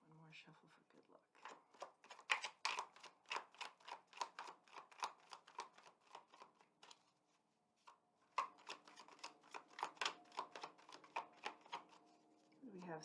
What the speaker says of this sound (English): One more shuffle for good luck.